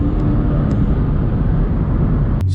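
A supercharged C6 Corvette accelerating hard in third gear, its engine giving a loud, steady, low roar heard from the cabin with no break in the sound.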